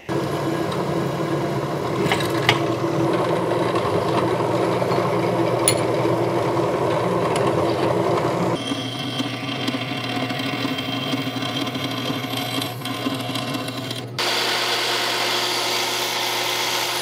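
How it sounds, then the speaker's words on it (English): A drill bores a quarter-inch hole while making a shifter and brake part for an Aermacchi motorcycle in a workshop. The motor hums loudly and steadily, cuts out briefly, then starts again, with no talking. "we're gonna drill a 1/4 inch hole right there"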